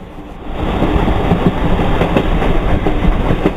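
A passenger train entering Andhra Pradesh from Tumkur, India, runs along the tracks with a loud, steady rumble and the rhythmic clatter of wheels over rail joints.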